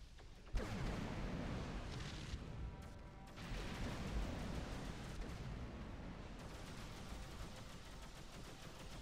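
Missile fire and explosive bursts in the space game X3 Farnham's Legacy start abruptly and continue as a dense, rumbling barrage with quieter shifts, heard without any voices.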